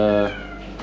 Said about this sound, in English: Sorry about my cat over there. She's whining to go outside